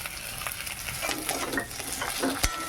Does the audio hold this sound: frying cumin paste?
yes